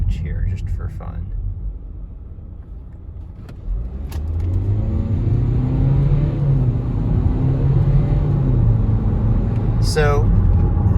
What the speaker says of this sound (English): let's do a little acceleration on this little downhill stretch here, just for fun.